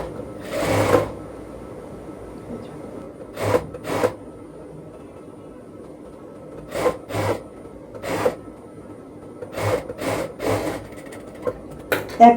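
Sewing machine putting a gathered stitch along a bell sleeve, in several short bursts of stitching separated by pauses, close and moderately loud with no talking.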